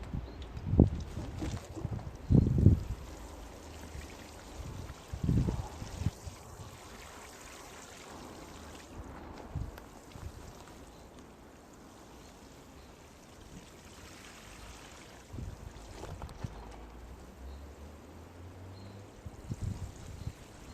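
Water poured over newly planted rhubarb sets in a garden bed, a fairly quiet outdoor trickle and splash with a few stronger bursts near the start, then steady soft flow in the background.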